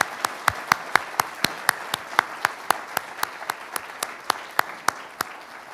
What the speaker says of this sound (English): may we have one more round of applause for Admiral Bauer